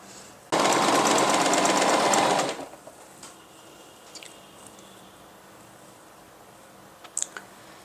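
A domestic sewing machine stitching fabric for children's dresses runs in one loud, steady whirring burst of about two seconds, then stops, leaving faint room noise and a few small clicks.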